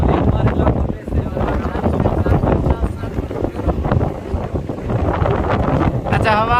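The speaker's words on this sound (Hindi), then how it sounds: "आग की तरह हवा चल रही है" A strong hot wind blowing in Dera Ghazi Khan, roaring and buffeting loudly against the microphone in gusts, with a person talking over it.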